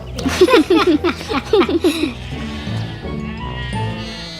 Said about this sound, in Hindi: अरे सुनो गोपाल, तुम्हारी बकरी कैसी है?